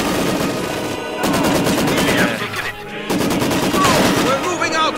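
Heavy machine gun firing in a military video game, rapid sustained bursts of automatic fire with a brief pause in the middle, loud and close, with faint voices mixed in.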